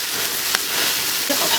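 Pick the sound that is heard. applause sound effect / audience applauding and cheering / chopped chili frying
chopped chili frying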